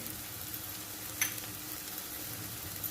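Asafoetida and Malvani masala frying in hot oil for a val papdi vegetable dish, a soft steady sizzle with one brief light clink of a spoon.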